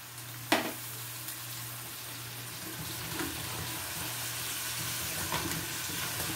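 Sweet potato goes into a pan with chicken and sizzles steadily, with a few sharp clacks of a utensil stirring against the pan and a low hum beneath, fairly close and without talk.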